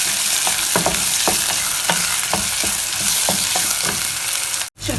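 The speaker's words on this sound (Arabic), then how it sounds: "ننزل البصل، حاطه بصلتين كبار عشان هو بيحب البصل ياما، وابتدي اشوح" Two large onions frying in a pan and being stirred, a steady broadband sizzle with repeated scraping strokes of the spoon at an even rhythm, close and fairly loud, briefly cutting out near the end.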